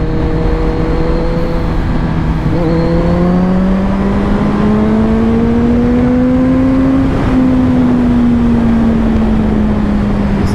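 A vehicle fitted with an Akrapovic carbon exhaust pulls through the gears on a ride, its loud engine note climbing and dropping in smooth rising sweeps over constant wind rush.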